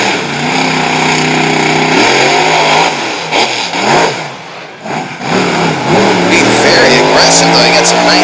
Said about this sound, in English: something is going wrong with this truck. You can hear it at the engine. It sounds like it's breaking.